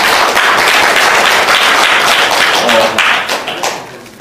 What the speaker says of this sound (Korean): 다시 한번 박수 부탁드리겠습니다